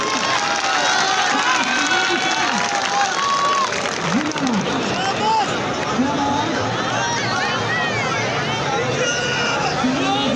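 At a wrestling match in Pakistan, a crowd claps and cheers in a continuous noisy roar while people shout and talk loudly throughout.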